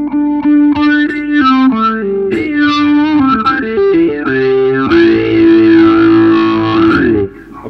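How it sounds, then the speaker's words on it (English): An electric guitar played through the built-in distortion of an Electro-Harmonix 8 Step Program analog expression sequencer pedal, loud sustained gritty notes and chords with a sweeping, modulated tone, alone without talk. "it's also got a built-in distortion that I can switch off."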